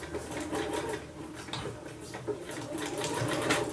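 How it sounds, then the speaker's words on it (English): A sewing machine stitching back and forth to tack down a craft piece, its steady mechanical whir running close and continuous with slight shifts in pitch as the direction changes. "just do a little stitch back and forth to just tack it down"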